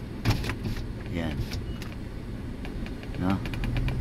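Car power windows being lowered slightly to let heat out of a parked car, short electric motor whirs repeated under someone speaking, with faint clicks and rustles nearby.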